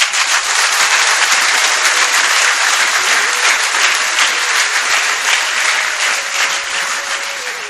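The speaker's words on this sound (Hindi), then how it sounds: "ये जितने हाथ ताली बजा रहे हैं" Sustained loud audience applause at a network marketing seminar, dense and continuous for several seconds, tapering slightly at the end.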